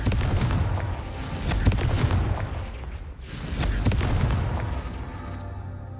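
Explosive Confringo spell cast in the video game Hogwarts Legacy, heard as a string of booming blasts and crackling bursts at close range that carry through most of the stretch, with no voices over them.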